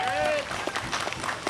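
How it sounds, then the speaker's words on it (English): A short burst of audience applause for the musical director at a freedom celebration concert, scattered clapping rising under a voice that carries on speaking over it. "We should give him a round of applause."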